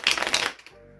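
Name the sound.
playing cards being shuffled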